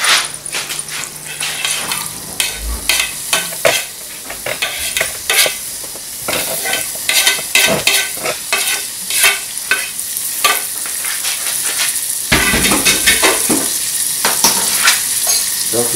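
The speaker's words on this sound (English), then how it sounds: "Just a quantity, little quantity of butter. My garlic and onions is going." Garlic and onions frying in a little butter, a loud busy sizzle with frequent sharp crackles and spits, plus occasional stirring scrapes in the pan, no talking.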